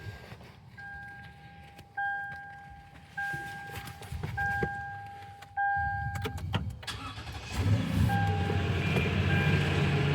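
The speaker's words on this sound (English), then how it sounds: "let's start the vehicle up, put this theory to the test" A Toyota Tundra 5.7L V8, fitted with a new starter, cranks with a repeating whine and chime, then fires up and settles into a steady, smooth idle.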